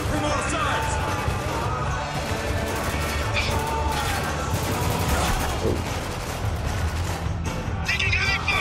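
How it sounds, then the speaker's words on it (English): Heavy gunfire and impacts crackle through a battle in the video game Spec Ops: The Line, with a steady barrage under shouted voices. "Taking heavy fire!"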